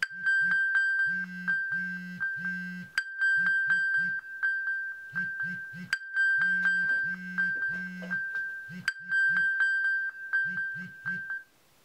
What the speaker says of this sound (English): You can click Play Sound to have your phone sound an alarm.